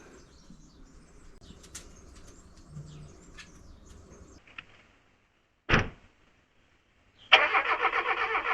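A Mazda car engine cranks and catches after a new battery is fitted, a short first burst followed by the engine firing into a steady idle nearby, with faint birds cooing outdoors before it.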